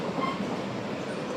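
Train rolling along rails, a steady continuous rumble with a faint clickety-clack from the wheels, heard from inside a moving passenger train, no talk.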